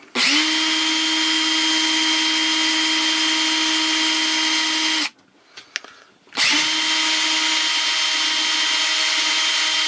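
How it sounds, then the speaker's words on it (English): Power drill boring out a peg hole in a plastic Transformers Energon Scorponok toy, a loud steady whine running for about five seconds, a brief pause with small clicks, then a second long burst. "So here we'll do this first, drill this one out."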